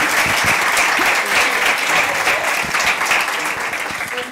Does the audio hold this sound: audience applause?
yes